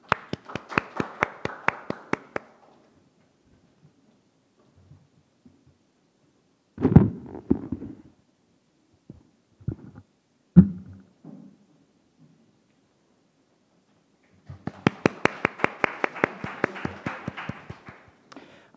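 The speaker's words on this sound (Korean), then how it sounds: "박수로 들어보겠습니다." An audience applauds at a talk in two bursts of brisk, rhythmic hand claps, one opening the stretch and one near its end, with quiet shuffling and a few thumps between them.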